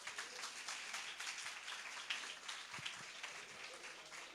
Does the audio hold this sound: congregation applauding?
yes